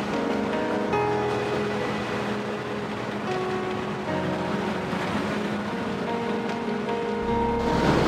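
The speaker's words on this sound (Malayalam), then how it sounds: "ഇതാണ് വാഗേറ്റർ ബീച്ച്." Steady surf washing ashore at Vagator Beach in North Goa, a continuous broadband roar of breaking waves with no voices, swelling slightly toward the end.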